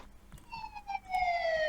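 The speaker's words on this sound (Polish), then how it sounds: "No już policja jedzie" A police siren in a Minecraft game wails in a short, falling then rising sweep, moderately loud, with faint background noise.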